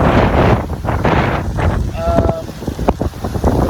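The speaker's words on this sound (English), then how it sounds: "you can hear the wind. The wind's pretty strong wind today" Strong wind blasting across the microphone at Dorado beach in Puerto Rico, a loud steady rumbling roar with bursts throughout, and a person talking faintly underneath.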